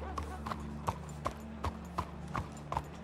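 Horse hooves clip-clopping in a Western roleplay video game, an even, steady beat of about eight hoofbeats with a low hum underneath, while people talk over it.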